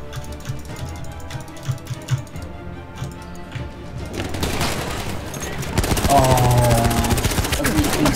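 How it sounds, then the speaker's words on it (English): Grenade explosions and battle noise from the Battlefield 1 video game, a dense, constant roar of blasts and rattling fire that swells louder in the second half. "So many of them, those grenades"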